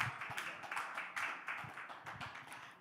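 An audience at a community gathering claps, a quiet and fairly distant patter of uneven hand claps that eases off over a few seconds.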